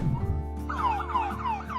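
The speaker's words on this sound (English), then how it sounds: "The police turned on their sirens" A police siren wails in quick rising and falling sweeps, fairly close and loud over a low traffic rumble.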